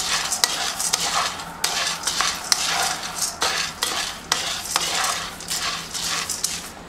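Coffee beans roast in a pan for Turkish coffee, stirred constantly so they rattle and scrape against the metal in a busy, irregular rhythm over a faint sizzle.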